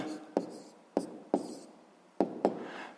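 A pen or pencil writes a math answer on paper, heard close and quiet as a few sharp taps and short scratchy strokes in an otherwise still room.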